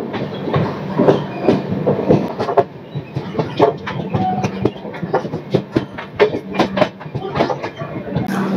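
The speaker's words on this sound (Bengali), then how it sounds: "ঝালমুড়ি দিলাম আর ট্রেনটা এবার ছেড়ে দিল।" A departing Vande Bharat express train rolls out of a station with rhythmic clicking of wheels on rail joints and irregular clanks, fairly close, with faint background chatter.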